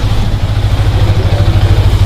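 Steady idling exhaust note of a Yamaha R15M V4 motorcycle with a changed muffler, heard up close and loud with an even, pulsing low rumble.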